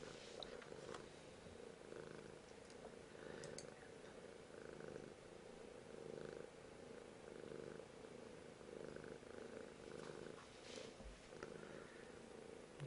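A cat purrs steadily and softly in someone's lap, a close, continuous low rumble lasting throughout with no talking.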